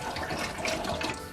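A kitchen sink tap runs cold water in a steady, close, hissing stream during home sushi preparation, with no talk over it.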